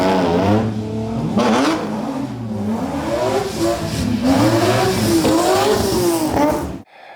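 A drift car's engine revs hard and repeatedly, the pitch climbing and falling in loud close sweeps with no talking, ending in a sudden cutoff.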